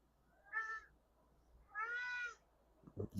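A cat meows twice, clear and fairly close, with quiet gaps between the calls, followed by a few soft knocks.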